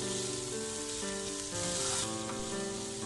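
Turmeric gets stirred into masala frying in oil in a pan for poori potato masala, giving a continuous close sizzle under a steady tonal hum, with no voices.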